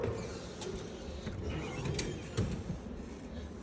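A drawer in a display cabinet at the Ostra Museum slides open with soft creaks, wooden knocks and mechanical rattles, heard at low level against a steady room background.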